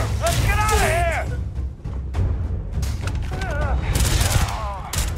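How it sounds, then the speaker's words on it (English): Gunfire during a space battle in Starfield, dense bursts of shots and booming impacts under excited voices calling out, loud and close with a brief lull midway. "Just keep shooting"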